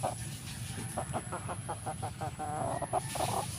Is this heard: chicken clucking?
yes